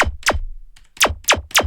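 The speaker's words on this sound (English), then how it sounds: "Now, it's from a stock Cartel preset called Laser" A Serum synth laser sound from a stock Cartel preset fires five sharp descending zaps, two quickly at the start and three after a short gap, each dropping fast in pitch with a thumping low tail.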